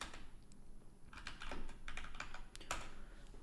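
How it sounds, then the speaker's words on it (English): Someone types a long command on a computer keyboard while hacking in Linux, with rapid, uneven bursts of close key clicks and a brief pause before a last flurry. "I just hate typing this long command every time."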